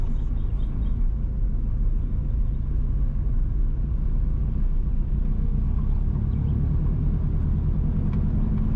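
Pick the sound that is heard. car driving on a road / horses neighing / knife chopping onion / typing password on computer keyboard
car driving on a road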